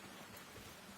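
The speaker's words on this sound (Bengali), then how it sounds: "আজকে বৃষ্টি পড়ছে, রেনকোট পরে কাজে যাচ্ছি।" Rain falls in a faint, even, continuous hiss, soft and distant, in a brief stretch with no voices.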